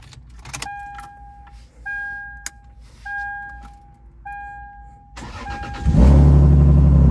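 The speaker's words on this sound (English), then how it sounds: "I'm going to start the car and let it run for a little bit, let it warm up" A Lexus IS300 with a drive-by-wire delete sits quiet through a series of electronic chimes and clicks, then the engine cranks and catches, settling into a loud, steady idle close by.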